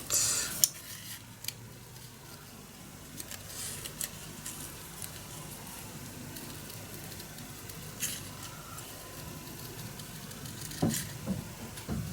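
Scissors snip through paper pieces for a mini album in soft, scattered cuts over about twelve seconds, with light rustling and handling noise throughout.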